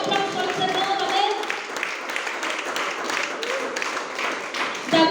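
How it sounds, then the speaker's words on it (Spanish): A church congregation applauds during a Spanish-language sermon, lively clapping that swells and dips across the stretch, with some voices and tapping mixed in. "Denle un fuerte aplauso al Señor."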